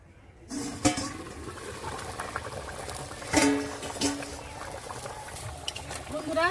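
Fish curry gravy with river pangas boiling in a covered pan, a close bubbling, gurgling simmer with a few louder bursts and lid or spoon knocks, under a light spoken voice.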